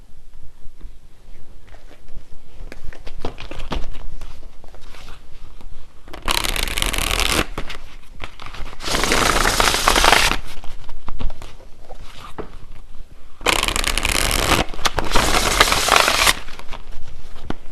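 Tarot cards being shuffled in four crisp, loud bursts of riffling and rustling, each lasting a second or two, separated by quieter handling noise.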